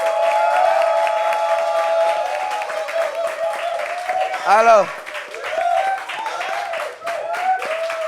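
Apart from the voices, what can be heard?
audience applause for Malika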